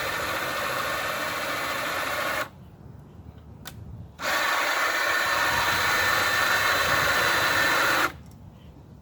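A home-built CNC router of 80/20 aluminium framing runs its X-axis lead screw: a steady close mechanical whir holds for a couple of seconds, drops out briefly, then returns for about four seconds before stopping.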